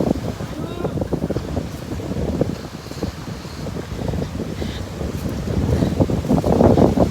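Strong wind blowing during typhoon Paeng near the shore at Labang Baybay, a continuous loud rumbling gust that swells toward the end, with a voice talking underneath.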